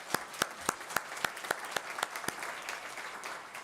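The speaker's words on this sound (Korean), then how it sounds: "박수로 환영하겠습니다." A church congregation applauding indoors, brisk sharp claps at first that soften into a steady patter.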